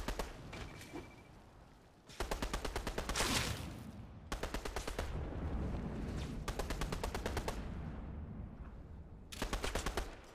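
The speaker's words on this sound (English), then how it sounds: "Oh, there's a person shooting at the llama." Rapid bursts of automatic gunfire in a video game, aimed at a llama, come in several long rattling volleys separated by short pauses, loud and close.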